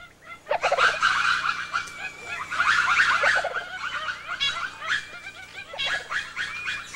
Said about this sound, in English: Lemur alarm calls help recruit a drongo, a native crow-like bird which mobs the retreating hawk.